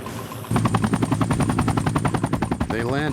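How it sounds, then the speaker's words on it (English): Military helicopter rotor chopping loudly close by during an embassy evacuation, a fast steady thumping pulse that starts abruptly and continues, with a brief voice at the end. "Back. Here's the chopper."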